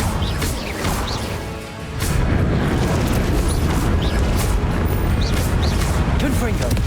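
Fiery Incendio spell blasts in Hogwarts Legacy on Switch, a dense roaring burst of crackling booms and impacts that swells louder after a brief dip, with game voices and effects layered throughout.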